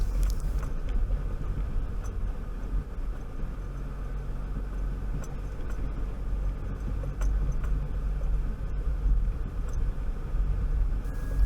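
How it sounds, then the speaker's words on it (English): A car engine labors at low revs while driving through thick sand on a rough road, a steady muffled rumble with rough grainy texture, fairly faint and continuous throughout. "I think it's time to rev up a bit."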